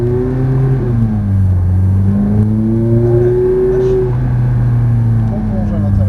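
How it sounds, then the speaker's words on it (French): A white Ferrari F430's engine accelerates on a drive in Saint-Dié-des-Vosges, a loud close drone rising and settling in pitch between gear changes, with people talking inside the car. "On débraque et on accélère."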